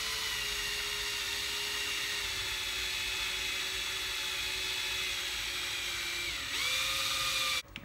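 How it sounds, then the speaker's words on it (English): A steady high-pitched drill whine runs continuously as the drill spins a length of wire clamped in its chuck to straighten it, pitch dipping briefly near the end before cutting off abruptly. "You're basically just using the jaws of your drill as a vise"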